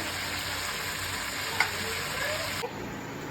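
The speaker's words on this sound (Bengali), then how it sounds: "মাংস আর আলু একসাথে করে এটাকে ভালো করে কষছি।" Chicken and potatoes sauté together in a pan with a continuous close sizzle, one light utensil tap partway through and a slight change in the hiss toward the end.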